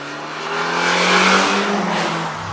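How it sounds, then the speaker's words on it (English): A BMW M3 on a race track revs hard toward redline, its engine note climbing steadily in a loud, continuous howl that swells in the middle and holds near the top. "go to redline and sing. It makes a really nice sound when you do that"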